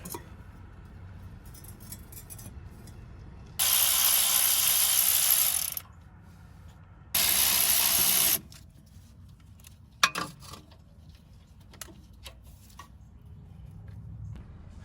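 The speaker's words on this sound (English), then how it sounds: "we're just gonna take the sway bar right off the axle" Ratchet wrench loosening 14 mm sway bar bolts on the axle of a 5th gen 4Runner during a 3-inch lift install; two loud, close bursts of rapid ratcheting, the first longer, then quieter clinks, with no talking.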